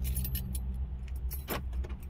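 Key remote of a 2000 Toyota Camry handled with a light jangle of keys in short, close metallic clinks over a steady low rumble, with no talking.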